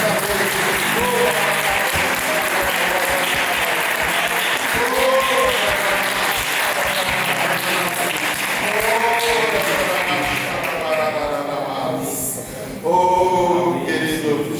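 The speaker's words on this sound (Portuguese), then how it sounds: "Ainda dá um aplauso para Jesus bem forte nesta noite." A church congregation at an evening service applauds strongly and continuously, dense clapping mixed with voices and excited shouts throughout.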